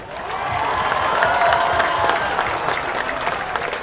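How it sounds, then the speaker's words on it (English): Sustained crowd applause and cheering at a Baylor Bears national championship celebration parade, a dense continuous roar of clapping from many people that stays loud throughout. "He needs a round of applause."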